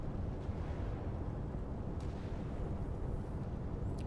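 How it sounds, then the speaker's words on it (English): Dense, continuous low rumble of bombs exploding on a warehouse in a naval combat video game, a steady roar of blasts with a few faint crackling pops on top, no voices. "They dropped all their bombs on this warehouse over here."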